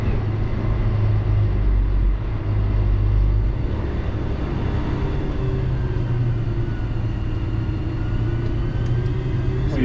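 A Volvo A40 off-road dump truck heads down a hill grade, its big diesel engine giving a steady heavy rumble with a low drone that shifts partway through, continuous and close with no talk.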